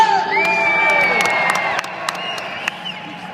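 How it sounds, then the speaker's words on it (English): A crowd cheers, whoops and applauds at a freestyle motocross show at Motorcycle Live 2012, a loud sustained roar with scattered claps and shouts that slowly tapers off. "Put your hands together, make some noise"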